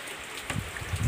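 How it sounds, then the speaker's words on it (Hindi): Steady heavy rain in a cold mountain village hisses across the whole stretch, with a few soft low thumps toward the end; no voices. "देख सकते हो इतनी तेज बारिश पड़ रही है"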